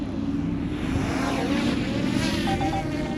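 A small 249 gram drone takes off outdoors near a TV station, its propellers giving a steady buzzing whine close to the listener, rising slightly over a few seconds with no voices.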